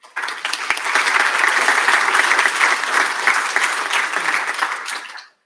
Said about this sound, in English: So a warm applause for Vivek.